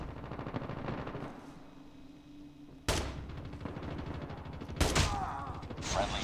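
Call of Duty Mobile gunfire, sniper shots from the Outlaw rifle, with a loud sharp crack near the middle and another shortly after, over a busy background of game noise and earlier rattling fire.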